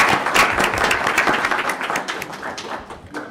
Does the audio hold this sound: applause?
yes